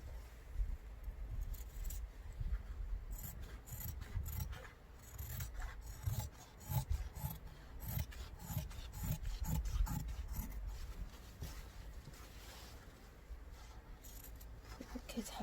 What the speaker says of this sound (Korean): 그래서 이제 시접 1cm 주고 이렇게 자를 거예요